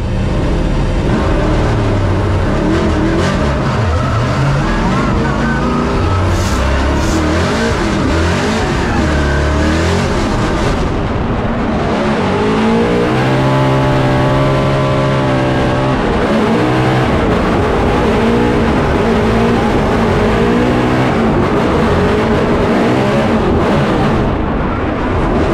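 A right-hand drive Ford Mustang RTR drifting in a Formula Drift competition, its engine roaring and revving hard with loud sustained howls and shifting pitch, continuous and close for the whole stretch with no talk.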